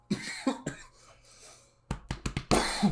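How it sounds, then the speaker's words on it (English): A series of harsh coughs, a couple of sharp ones early, then a rapid burst of several coughs in a row, close and loud. "I felt that cough coming up"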